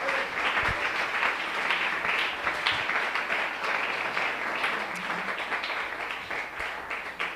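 Church congregation applauding during a live Sunday school service at a Pentecostal church in Rionegro, a steady wash of many hands clapping that holds evenly from start to finish at moderate loudness, with no talk over it.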